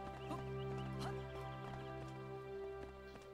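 Horse hooves clip-clopping in the Sword Art Online Alicization Lycoris video game as the mount climbs a mountain. Light, irregular hoof taps sit over a steady droning game background with no talk.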